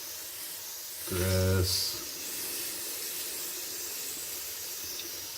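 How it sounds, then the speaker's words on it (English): Water spray from a hose washes down a leaky 1976 Nova rear end caked with years of gear oil, a steady close hiss running throughout, with a brief voice speaking near the start. "we're gonna hose this down for some fun"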